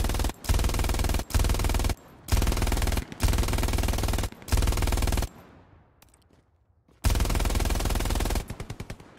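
Automatic weapons fire in the Hell Let Loose war game comes in long, loud sustained machine-gun bursts separated by short gaps, then a brief quieter lull, before another burst ends in spaced, individual shots.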